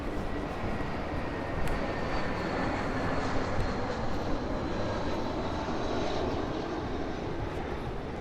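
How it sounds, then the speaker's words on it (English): A low-flying airplane coming in to land at LaGuardia Airport in Queens, New York, its engine roaring in a loud, broad, steady rush that holds without a break, heard outdoors with no one speaking. "All those planes are landing at LaGuardia Airport."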